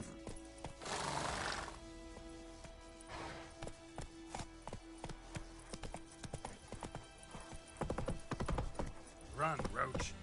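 Video game horse Roach gallops with rapid clip-clop hoofbeats and snorts, letting out two loud whinnies near the start and end, while a voice speaks over the action.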